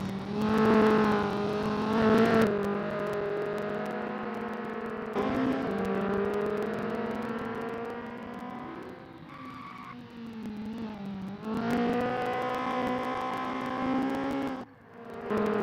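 Honda Civic race cars at Brands Hatch: loud engines rev and accelerate, with tyres skidding and squealing as cars pass close by, the engine note dropping and rising between bursts.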